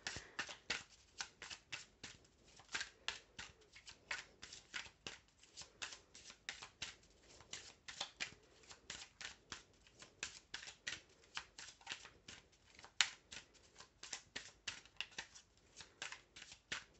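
Feeling cards being shuffled by hand, a rapid rhythmic series of crisp riffling flicks repeating steadily for the whole stretch, close and fairly quiet with no talk.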